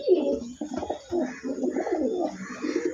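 Section shield pigeons coo close up in a continuous series of low, throaty, rolling calls, several birds overlapping without pause.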